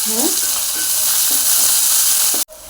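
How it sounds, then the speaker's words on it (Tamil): Onions and green chilies sizzle steadily in hot oil, a loud continuous crackle and hiss with faint stirring, cut off abruptly near the end. "வெங்காயம் பச்சை மிளகாயெல்லாம் போட்டு தாளிச்சு"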